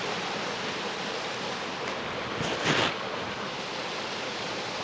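A waterfall near Crackpot Hall in the Yorkshire Dales roars as a steady broadband rush of falling water, heard from nearby and continuous throughout, with a brief louder surge in the middle.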